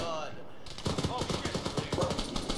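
A heavy gun fires in the Army Men: Sarge's Heroes video game, a rapid, steady string of loud, punchy shots that starts abruptly after a brief quiet moment and keeps hammering to the end.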